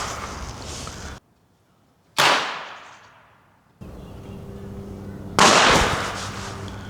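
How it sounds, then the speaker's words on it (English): Firecrackers set off in an outdoor amphitheater: a couple of sharp, loud bangs, each trailing off into an echoing decay, separated by near-silent gaps. "We also have these firecrackers, and we're about to use these right now to do the same test."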